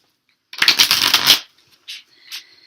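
A deck of tarot cards is shuffled close up in one quick, crisp burst of riffling, followed by two short, softer card shuffles or flicks in an otherwise quiet room.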